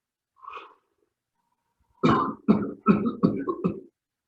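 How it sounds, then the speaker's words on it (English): A soft breathy exhale comes first, then after a pause a series of about five harsh coughs in quick succession, close and fairly loud. "One more full exhale and cough."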